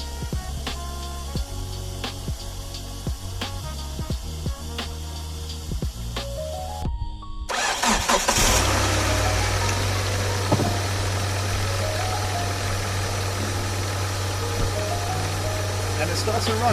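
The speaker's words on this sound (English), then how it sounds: "And it starts and runs, see?" A 1997 Hyundai Coupe with a blown head gasket is cranked and catches, then settles into a steady, loud, close idle with a low drone and rough vibration, preceded by clicks and handling noises.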